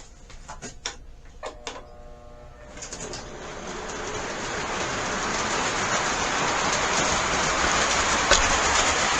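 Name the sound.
model train running on track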